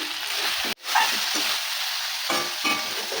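Banana flower sautéed with spices sizzles in a pan, with a short sharp hiss and crackle as a little water goes in, followed by steady frying and light stirring.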